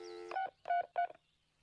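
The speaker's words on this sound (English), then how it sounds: "Bobby, if you're gonna fake dial, you gotta hit more than three numbers." Three quick telephone keypad tones beep close and clear in a short burst after a brief electronic tone, with no talking.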